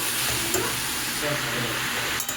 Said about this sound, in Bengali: এইবার সবগুলো আবার একসাথে বেশ ভালোভাবে মিশিয়ে নিই